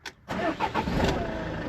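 Ram Promaster van engine starting: a brief click and pause, then the starter catches and the engine settles into a steady, loud, close idle.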